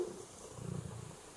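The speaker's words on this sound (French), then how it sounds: "Il ronronne comme un tracteur." A soft, low rumbling purr from a cat, faint and close, pulsing gently for a moment with no talking.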